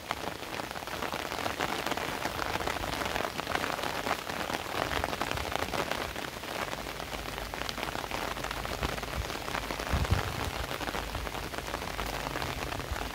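Heavy rain pours steadily onto surfaces for the whole stretch, a dense, even hiss of drops at moderate level, with one brief louder knock near the end and no voices.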